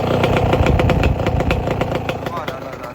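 A motorcycle engine idles smoothly nearby with a steady, even putter under a voice talking over it.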